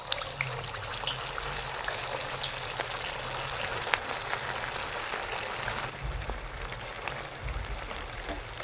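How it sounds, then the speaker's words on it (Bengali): Semolina pitha fries in medium-hot white oil in a wok, a steady crackling sizzle like light rain, with occasional sharper pops and low clunks as the pieces are turned. "আর এভাবে উল্টে পাল্টে ভেজে নেব।"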